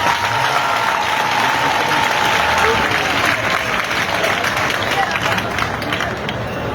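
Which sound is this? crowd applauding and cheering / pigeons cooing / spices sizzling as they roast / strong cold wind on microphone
crowd applauding and cheering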